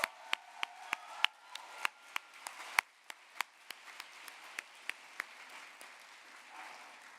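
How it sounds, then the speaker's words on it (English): Sparse clapping at an Envirothon oral presentation event honoring three teams: a scattering of individual, distinct hand claps in an uneven rhythm, fairly faint and fading out near the end. "Let's give a big round of applause to all three teams."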